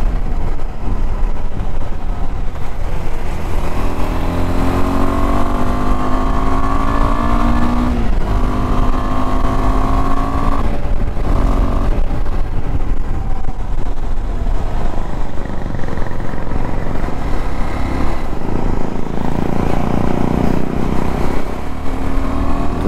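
Loud, continuous engine drone of ADV motorcycles and a Royal Enfield racing on a Pithoragarh road, with rising and falling revs as the bikes accelerate and shift, heavy wind rumble throughout.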